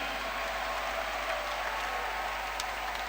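A church congregation applauds and cheers for the Lord during a New Year's night of prayer, a steady, dense wash of clapping filling the room without pause, with no speech over it.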